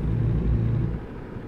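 A truck engine drones steadily on an interstate in American Truck Simulator, a low continuous rumble that eases slightly partway through.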